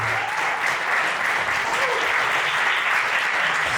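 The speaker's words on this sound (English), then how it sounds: "Let's give a round of applause for our founders, Joe and Joe" Steady applause from an audience honoring the founders at a Knowledge House anniversary event, a dense wash of clapping held at even loudness for a few seconds.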